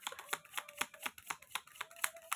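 Playing cards shuffled for a tarot-style reading, a quick run of crisp riffling bursts repeating about every quarter second, close and fairly quiet with no voices.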